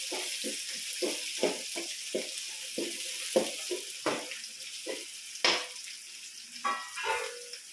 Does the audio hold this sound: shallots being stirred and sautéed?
yes